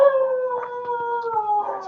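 A single dog lets out one drawn-out, wavering howl, clear and fairly close, carrying on for nearly two seconds without other sounds.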